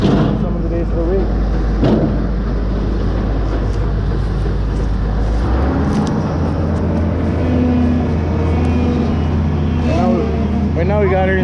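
Farm harvest vehicle engine running in second gear during a grain harvest, a loud continuous low rumble with heavy mechanical noise and a few knocks, a voice talking over it.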